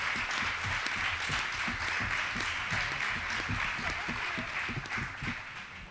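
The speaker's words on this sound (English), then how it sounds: "Please give them a big round of applause." An audience applauds a reggae music panel at an event, a sustained wash of many hands clapping at steady volume.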